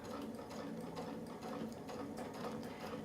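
A sewing machine stitches a quilt along a Westalee brick template, its motor humming steadily with a fast, even needle clatter that runs without a break and no voices.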